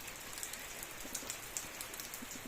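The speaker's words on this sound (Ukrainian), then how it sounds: "поки що йде дощ. 4 години вже йде дощ" Steady rain falls outdoors on a garden with cherry trees and flowers, a soft continuous patter with scattered distinct drops landing close by, no voices.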